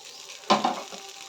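Oil with onion and chili powder hitting an egg dosa on a hot pan, a short sudden hiss that softens into a quiet sizzle.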